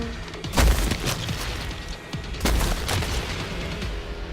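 Gunfire in a video game aimed at yellow vesicles on an alien nest, loud booming shots in two heavy bursts with rattling follow-up fire and low rumbling impacts, close and dense.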